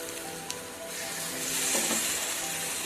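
Ground cumin, garam masala and dried chili powder fry in a pan for a village-style potol paneer masala, giving a continuous loud sizzle that swells slightly, with a few light stirring scrapes and no talking.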